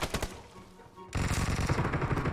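Rapid automatic gunfire in a multiplayer shooter video game, a dense, loud stream of shots kicking in after a quieter opening with a few scattered pops.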